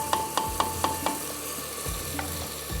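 Beef for a beef handi sautés with spices in a pot, a low sizzle under several quick rhythmic clinks of a spoon against the pan early on, then softer scraping stirs.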